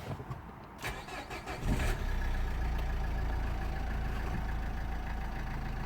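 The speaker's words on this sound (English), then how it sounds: "let me start the engine, see if we do have the engine light on." A Nissan Qashqai 1.5 dCi diesel with a no-power, no-boost fault cranks briefly, catches and settles into a steady, close, rattly idle that runs on without any talking.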